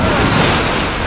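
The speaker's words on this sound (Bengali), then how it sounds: "এই ঢেউটা আসছে" Large ocean waves breaking on a beach at India's southern tip, a dense continuous roar of surf and wind buffeting the microphone, loud and close.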